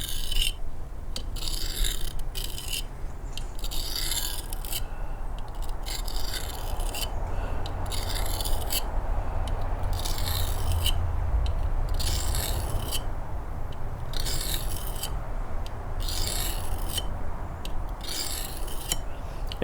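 A knife blade is drawn across a wallet-sized diamond sharpening plate in a regular rhythm of close, crisp rasping strokes, about a dozen evenly spaced passes over a low steady background hum.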